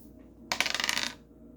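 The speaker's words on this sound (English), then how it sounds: "let's roll the dice." Dice clatter and rattle across a hard surface in one quick burst of bright clicking bounces lasting about half a second, then settle into near silence in a quiet room.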